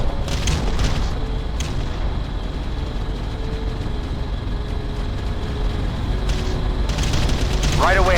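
Deep booms and rumbling blasts of an artillery bombardment in the strategy game Ground Control roll on continuously, thickening into heavy explosions near the end, with voices speaking occasionally over the barrage.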